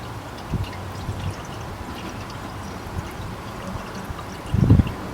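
Liquid poured into the radiator of a 1973 Plymouth Fury that has sat since 1979: a faint, steady trickle under low background noise, with a brief louder splash near the end.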